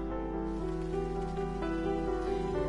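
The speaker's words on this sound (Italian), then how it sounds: "Questa pioggia ricorda molto anche Heavy Rain." Steady rain falls in the game Detroit: Become Human, a dense, even patter heard alone at a constant level, with soft musical tones running beneath it.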